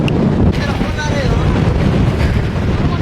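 Strong monsoon wind on the Mullayanagiri hilltop near Chikkamagaluru, up in the clouds, buffets the microphone with a loud, continuous low roar and rumble.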